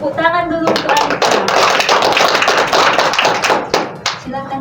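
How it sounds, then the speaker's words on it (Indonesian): A classroom of students claps loudly for a classmate after her presentation in a micro-teaching lesson, a dense rush of hand claps bracketed by a teacher's voice at the start and end. "Tepuk tangan dulu untuk Alifa."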